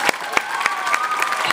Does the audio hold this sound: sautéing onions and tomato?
no